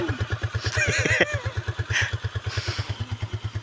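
A motorcycle engine runs close by with a steady, rapid thumping idle rhythm throughout.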